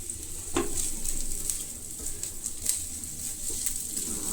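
Rice frying in a pan for egg fried rice, a steady soft sizzle with faint scraping and stirring clicks throughout, no talking.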